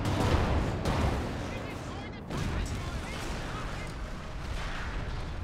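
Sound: Katyusha rocket artillery firing in video game Company of Heroes 2

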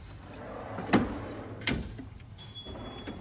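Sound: tool box drawer opening and closing

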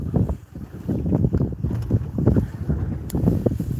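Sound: strong wind on a lake while boat fishing

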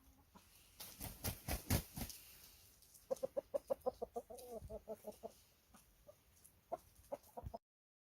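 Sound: Cheonggye rooster and chickens clucking

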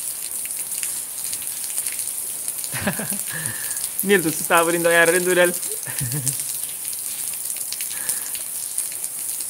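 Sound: rain falling in Cape Verde

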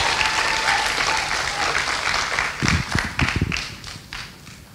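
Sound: audience applause at music festival opening

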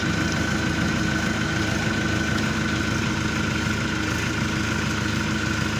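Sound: Orion 404 tractor engine running while gears are shifted

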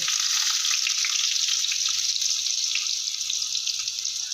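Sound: potatoes frying in oil

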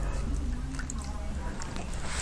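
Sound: squeezing water out of a paint brush by hand

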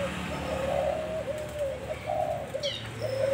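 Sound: Thai white-spotted doves cooing

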